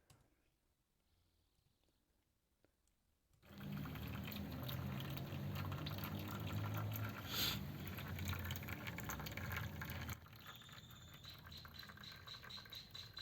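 Blue-dyed water pours steadily into a model tank, a loud continuous gushing fill that starts abruptly after a quiet lead-in and eases slightly toward the end, with no talk.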